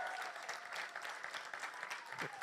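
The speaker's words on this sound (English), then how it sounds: "We were so excited clapping" An excited audience at a closing plenary claps steadily, a dense, even patter of many hands heard fairly faint throughout.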